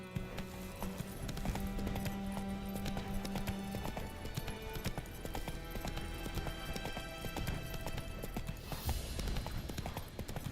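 Steady clip-clop of a horse trotting in a video game, continuous hoofbeats with occasional snorts, alone with no talk.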